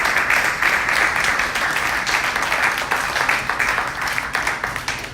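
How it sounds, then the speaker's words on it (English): A crowd claps for the finalists at a live event, close and loud, with sustained overlapping applause that pulses slightly and stays steady throughout. "Round of applause for the finalists."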